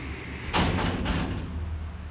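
Door sounds of someone at the door: a sudden sliding rumble and thump of a door moving, followed by a fading rattle, close and moderately loud over a low steady hum.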